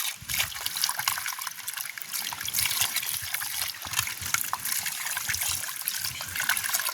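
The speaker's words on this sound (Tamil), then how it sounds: "இப்போ நாங்கள் கழுவி எடுப்போம்" Running water rinsing cut snakehead fish pieces, a steady close splashing trickle and gush that continues without break for the whole stretch, with no talk over it.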